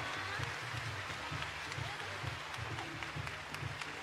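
Steady crowd applause with dense clapping throughout at a women's basketball all-star game three-point contest, heard at a distance in a large hall, with some low rumble underneath.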